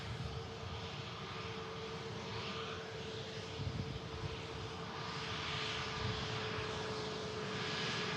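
A Paris-bound EasyJet jet airliner begins its takeoff roll at Manchester Airport, giving off a steady, distant, broad engine roar that swells gently over several seconds.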